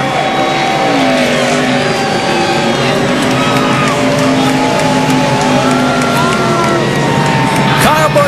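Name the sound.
NASCAR fans cheering Kyle Busch's win at Texas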